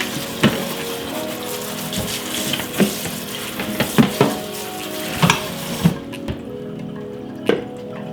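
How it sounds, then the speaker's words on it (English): Tap water runs steadily into a kitchen sink as about 16 ounces of mushrooms are rinsed, with scattered clunks and splashes over the continuous stream, which cuts off near the end. "I'm going to give them a good rinse"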